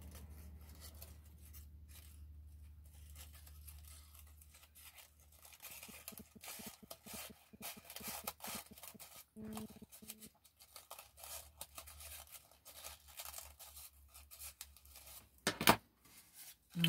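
Scissors trim off excess crepe paper on a decorative craft embellishment, giving soft, quiet snips and crinkly rustles, with a sharper cut near the end.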